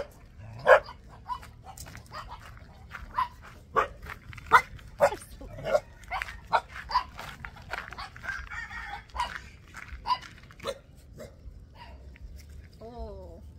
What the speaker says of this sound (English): There's like three generations of puppies around here.